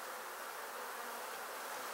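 A dense swarm of honeybees hums continuously during a bee removal, a steady, even drone held close throughout with no voices.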